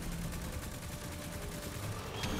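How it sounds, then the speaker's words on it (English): Rapid automatic gunfire in a video game, a continuous dense rattle of shots at steady volume with a faint voice underneath. "Three, two, one, shooting"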